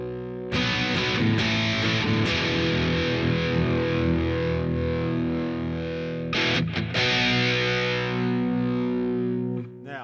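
Electric guitar played through a Boss DS-1 distortion pedal, sustained heavily distorted chords ringing out, with a short burst of fresh strums partway through, loud and alone without talk.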